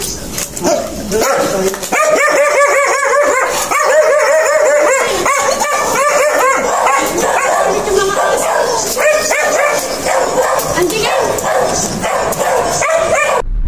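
A dog barks, yips and whimpers repeatedly in close, busy bursts, with other people's voices mixed in the background.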